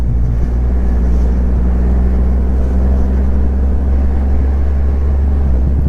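A motorcycle, a Ducati Streetfighter V4 or Triumph Rocket 3 R, is ridden along an open road, heard as a loud, constant low engine rumble mixed with wind roar and no break.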